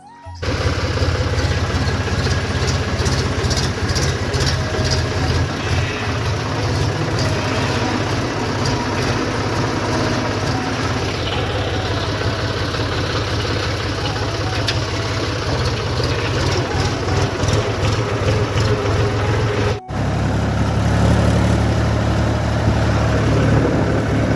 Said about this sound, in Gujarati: ચાલો હવે આપણે ટ્રેક્ટર લઈને છે તે નીકળીએ સીધા ખેતર જવા માટે